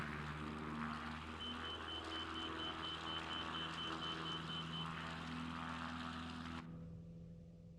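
A propeller airplane engine drones steadily during takeoff in a flight simulator, a sustained even hum that cuts off abruptly near the end, leaving faint low noise.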